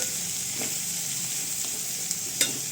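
Tomato pieces sizzling and frying in hot oil in a pan for a village-style egg, drumstick and prawn curry, a steady close hiss with a couple of brief stirring clinks.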